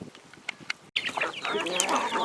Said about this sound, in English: our chicken population has kind of exploded.